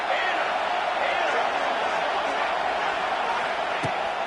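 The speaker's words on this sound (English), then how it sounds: "This crowd bringing the energy and noise early." Dense, steady roar of a large crowd filling a stadium at an American football game, loud and continuous with a faint sharp knock near the end.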